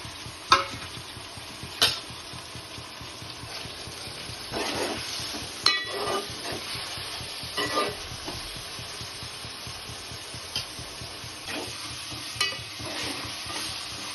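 Chopped tomatoes frying in a pan with radish curry ingredients, a soft continuous sizzle broken by intermittent scraping and clinking stirring strokes, close and moderately quiet.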